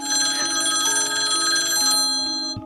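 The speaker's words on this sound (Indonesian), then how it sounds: "tiba-tiba telepon berdering" A telephone rings in The Ring horror film with a steady, loud electronic trill, its tonal pulses repeating continuously and up close with no voices.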